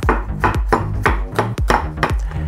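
A knife cuts through peeled tomatoes on a cutting board, about ten close, crisp knocks against the wood in a steady, slightly uneven chopping rhythm.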